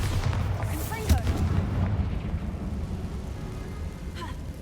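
Confringo spell blast in Hogwarts Legacy: a booming burst around the middle of a noisy rumbling bed of game effects, with crackling and a few whooshing sweeps trailing after.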